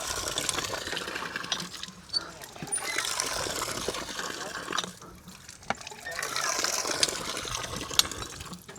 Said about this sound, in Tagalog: Mas malakas ang tubig dito kumpara doon.